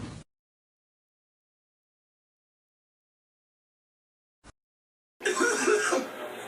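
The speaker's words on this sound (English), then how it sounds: "It's just a cough." A single harsh cough bursts out after long silence, loud and close, preceded by a short clipped sound.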